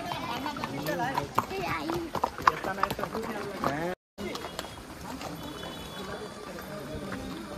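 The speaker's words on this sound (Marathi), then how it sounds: "ते कुठे चाललेत घोडे?" Horses walk a monsoon-season path at Matheran, their hooves clip-clopping in an uneven rhythm while people chatter nearby, with a brief dropout midway.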